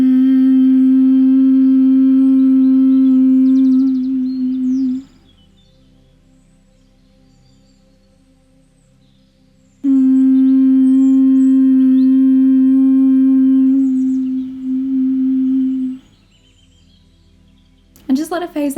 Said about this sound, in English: The next time we do it, we're going to do a hum.